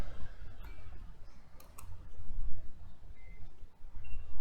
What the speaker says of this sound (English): Let me just type this 1 second